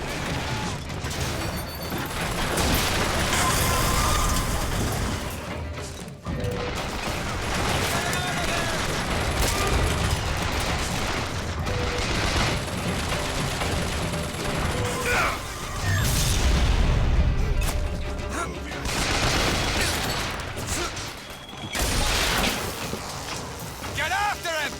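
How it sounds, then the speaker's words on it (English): An automated turret in the video game BioShock Infinite fires in sustained, dense bursts, mixed with booms and mechanical clatter in a loud, busy combat scene. Voices are heard in the middle of the noise. "That tear will get us access to higher ground. And that one will give us a turret."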